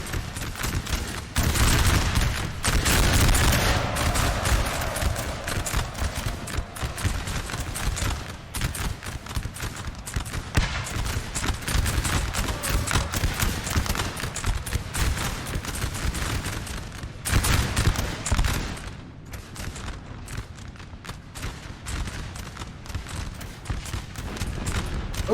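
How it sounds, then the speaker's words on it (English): Musket volleys from massed infantry crackle in dense, overlapping rolls during a Napoleon Total War battle at Montebello, loud and continuous with brief surges and lulls, heard without any talking. "It seems like the volleys are very regular,"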